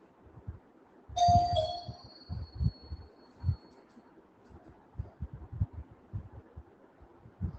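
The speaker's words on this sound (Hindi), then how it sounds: "तो घंटी बजी देखे कौन है" A single electronic chime rings once near the start and fades quickly. Quiet thumps and soft room noise follow and continue to the end.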